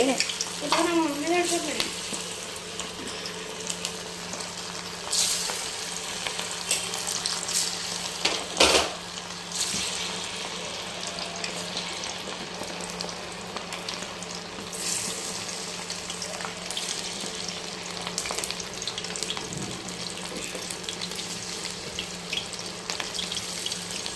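Chicken pieces fry in hot oil, giving a steady watery hiss and crackle that runs throughout, with a few sharper clatters of a utensil and faint voice in the background.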